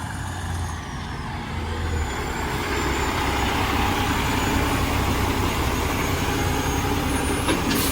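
A truck pulling a trailer rolls up along a busy road, its loud, steady engine rumble and road noise filling the scene close by.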